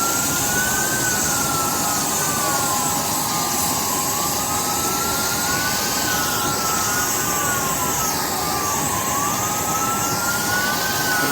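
A Congo Airways jet engine at an airport roars in a steady, loud, continuous whine. A rising and falling siren-like tone runs over it throughout.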